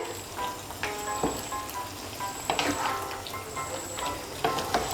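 Radhuni paste is stirred into vegetables in a pan for Bengali sukto, a soft steady sizzle broken by scraping strokes and light clinks of a spoon against the pan, close and fairly quiet.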